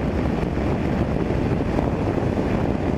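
Strong wind buffeting the microphone while riding a BMW G 650 GS motorcycle, a loud continuous low roar with no breaks, steady throughout with no talking.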